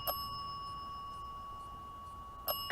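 A small bell rings in a cemetery at night, with two brief bright dings, one at the start and one near the end, over a steady faint electronic tone and quiet background hiss.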